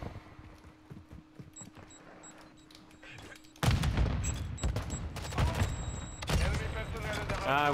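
Explosions and heavy gunfire burst in during a Call of Duty Modern Warfare 2 ranked Hardpoint match, loud and close after a quieter stretch with a steady hum, with repeated blasts and crackling shots continuing to the end.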